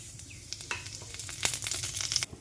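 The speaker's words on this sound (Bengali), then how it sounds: "শুকনো লঙ্কা আর ফোড়নটা দিয়ে দিলাম।" Dried red chillies and five-spice tempering hit hot oil in a kadai, giving a steady crackling sizzle with sharp pops that build toward the end before cutting off.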